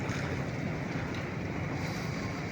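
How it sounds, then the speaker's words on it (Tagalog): Seawater overflows along the shore during a monsoon habagat storm, a dense, steady wash of churning water and wind noise, faint and even throughout with no distinct breaks. "Maapaw ang tubig dagat."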